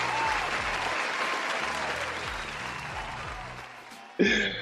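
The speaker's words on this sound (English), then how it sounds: "Let's clap it up." A studio audience claps through a round of applause at a roundtable podcast, steady and fairly loud, fading slightly before a short burst of voices near the end.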